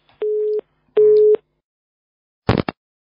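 After a phone call drops, a busy tone sounds as two steady beeps, followed by a short click on the line.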